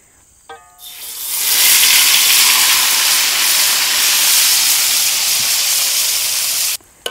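Ground chili paste for balado hits hot oil in a pan, bursting into a loud, bright steaming sizzle after a few soft clicks, then hissing steadily for several seconds before cutting off abruptly.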